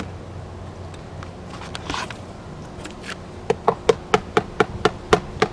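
Someone taps a foam RC airplane's A310 fuselage tube, hardened with two coats of Mod Podge. After some faint handling clicks, about nine crisp, evenly spaced taps ring out close up.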